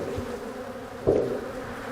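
Honeybees buzz steadily around an open hive during an inspection of a split from a beekeeping colony, a continuous close drone with a brief louder swell as bees pass near.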